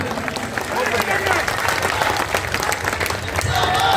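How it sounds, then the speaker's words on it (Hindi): A crowd at a political public meeting claps loudly and continuously, a dense sustained applause with scattered cheers throughout. "जोरदार तालियां, समर्थन।"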